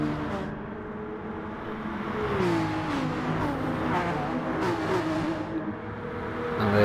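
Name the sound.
race car engine passing, Peugeot, in video game GT Sport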